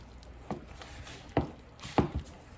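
Peanut butter oatmeal granola bar mixture being stirred in a bowl, with three soft, thick thuds and squelches spaced about half a second apart, close by.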